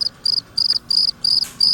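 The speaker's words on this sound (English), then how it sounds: "Install cricket sound here." Cricket chirping sound effect: five or six evenly spaced bursts of rapid high chirps, close and clear over near silence.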